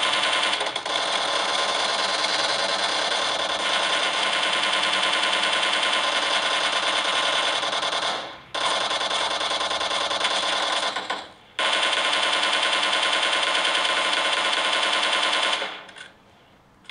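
Sustained automatic gunfire from a mobile shooter game played on a Honor 9X phone, dense and continuous at close range with two brief gaps and a drop-off near the end.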